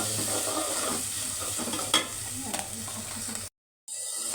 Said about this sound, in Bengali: ধনিয়ার গুঁড়া দিয়ে দিল একটু ভালো করে মশলা নেড়ে চলে